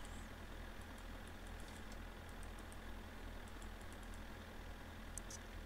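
In the video game My Summer Car, a tractor engine idles with a steady low rumble, faint and continuous, with a few small clicks over it.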